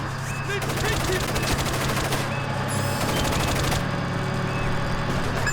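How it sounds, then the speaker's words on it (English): Gunfire rattles in the stealth video game Splinter Cell Chaos Theory, a dense, continuous burst of rapid shots with steady background game noise and faint voices. "We've got incoming shots!"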